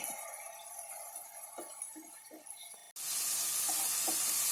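Gravy of capsicum, onion, ginger and garlic simmering on medium heat, sizzling steadily while a spoon stirs and mashes it with soft scraping knocks, the sizzle surging louder partway through.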